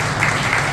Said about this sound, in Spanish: Un aplauso fuerte para Paterno.